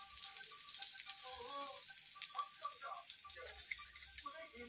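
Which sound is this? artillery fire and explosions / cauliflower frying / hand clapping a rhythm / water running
cauliflower frying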